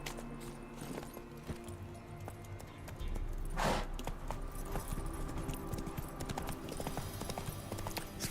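Horse hooves clip-clop steadily on a road in The Witcher 3, a close, regular trot layered over game music and ambience, with no talking.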